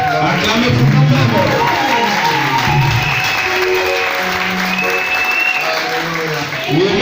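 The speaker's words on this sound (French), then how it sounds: "Oh, clap for yourself, love." A church congregation at an anniversary service applauds loudly and continuously, a dense close wash of clapping and crowd noise with a voice speaking over it throughout.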